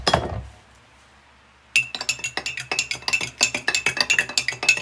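A metal spoon stirring zobo juice in a glass cup, clinking rapidly and repeatedly against the sides in a steady, bright rhythm after a short single clink and a quiet pause, close up with no talking.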